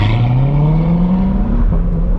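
A Chevrolet C8 Corvette Z51 accelerates hard, its engine note climbing steadily in a loud, close, sustained drone with a brief dip as it shifts near the end.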